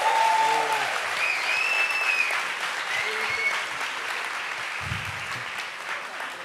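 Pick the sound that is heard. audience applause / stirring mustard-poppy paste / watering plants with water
audience applause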